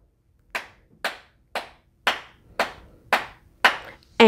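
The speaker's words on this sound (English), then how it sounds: "Clap, clap, clap, clap," Eight sharp hand claps at a steady, even pace, about two per second, each a crisp close-up burst with a short decay, alone and without talk, the last clap slightly louder.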